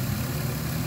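A Lexus GS300's 2JZ-GE inline-six with VVT-i idles steadily, a dense low rumble with an even, unbroken level and no voices.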